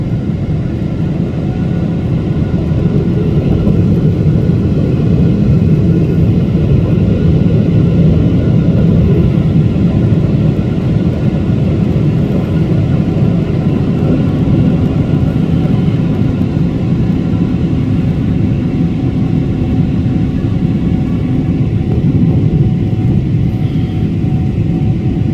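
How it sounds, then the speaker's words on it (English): A Boeing 777 airliner takes off in low visibility at Ho Chi Minh City airport, heard from inside as a steady, loud broadband engine roar and rumble that holds unbroken for the whole stretch with no talk. "And thus ends the takeoff of the Boeing 777 aircraft."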